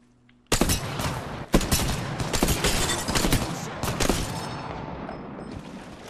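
Rapid automatic gunfire from an Apex Legends firefight, dense bursts of shots starting abruptly and continuing loud and steady with a few sharper cracks and no talk over it.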